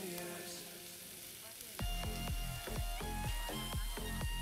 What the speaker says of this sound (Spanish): así que espero que sofrite la cebolla